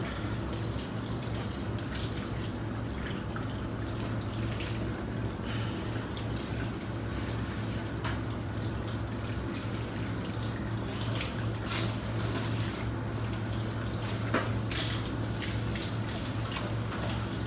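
Fish being washed under a running tap, a continuous close rush of water with occasional splashes and drips, steady throughout and without any talking.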